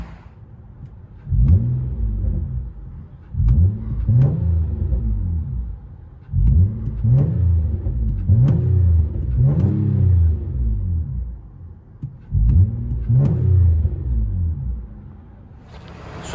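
2012 Nissan Altima SR 3.5L V6 with Magnaflow dual exhaust revs repeatedly, each burst a loud throaty rise and fall, several rev blips in rhythmic groups separated by short idle pauses.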